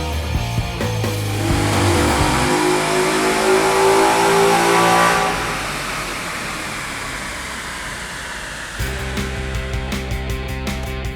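2012 Mustang GT with performance parts revving on a dyno pull, its engine climbing loudly through the gears to a peak, then dropping to a lower idle-like drone.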